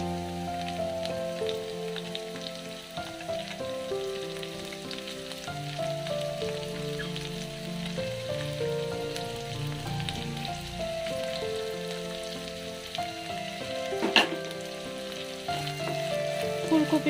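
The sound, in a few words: cauliflower frying with onions in a pan for veg chowmein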